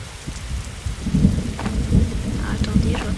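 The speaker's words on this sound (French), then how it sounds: "Eh oh, ah non, pas les orages" Thunderstorm with steady rain pattering on surfaces and low rumbles of thunder rolling through, fairly loud and continuous with no voices.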